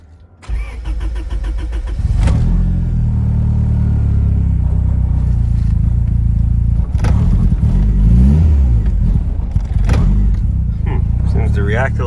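A turbocharged Honda Civic hatchback with a newly fitted map sensor, on a cold day, cranks briefly, then catches into a loud, close idle with a couple of short rev blips; no talking.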